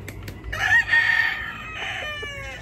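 A mayahin rooster, a gamefowl kept in a backyard, crows once in a long, loud, drawn-out call at close range. A few softer clucks follow.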